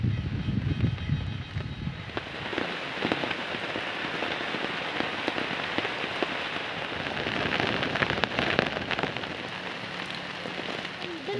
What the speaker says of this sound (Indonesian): Nampaknya hujan lagi sobat.